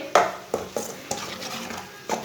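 A spatula scrapes and taps against a pan while eggs cook for an omelette, a quick series of sharp metallic clinks spaced irregularly, close and fairly quiet.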